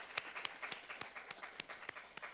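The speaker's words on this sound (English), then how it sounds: "Let's give a round of applause to the USCPD." Student government meeting at the University of South Carolina giving a round of applause to the USCPD, a brief, faint patter of scattered individual claps from a small group.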